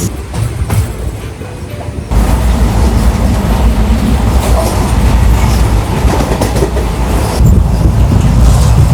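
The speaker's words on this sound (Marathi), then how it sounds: "ही आहे नागपूर मडगाव एक्सप्रेस" The Nagpur Madgaon Express runs on the Konkan Railway in showery rain, a loud continuous rumble with rhythmic clickety-clack of wagons heard from on board, swelling in level after a couple of seconds.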